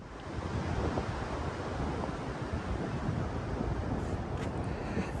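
Ocean waves on a beach as the tide goes out: a continuous, close rush of surf mixed with wind buffeting the microphone, rising in after a quiet start and staying loud with no speech.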